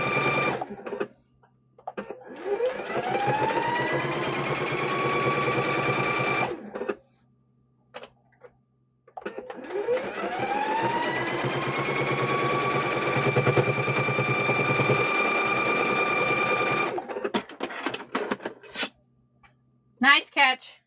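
A sewing machine stitches a kitchen hand towel in two long steady runs of mechanical whirring, each lasting several seconds, separated by pauses with brief handling noises, close and clear.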